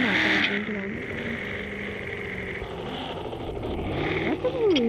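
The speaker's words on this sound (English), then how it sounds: "That's a police helicopter." A steady engine drone with rotor-like throbbing from a police helicopter passing overhead, with a voice and traffic noise layered over it.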